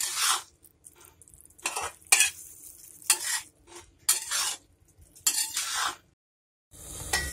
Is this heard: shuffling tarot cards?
no